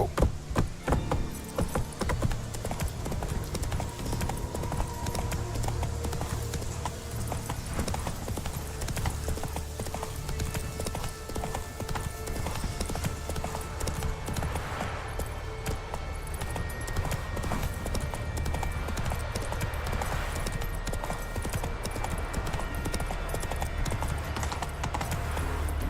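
Hooves of the horse Roach clip-clop steadily at a gallop in The Witcher 3, a continuous rhythmic drumming over a dense bed of game music and ambience, loud throughout.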